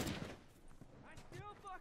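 Gunfire crackles in The Last of Us on PS4, a loud burst at the start followed by a few further sharp reports, mixed with game sounds and a voice speaking.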